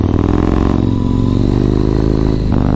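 A Yamaha MT-01 motorcycle on a commute to work, its engine a loud, steady low rumble with continuous road and wind noise throughout, briefly dipping near the end.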